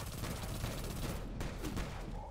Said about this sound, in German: Da wird hier jetzt richtig wild mit der Primary drauf geschossen.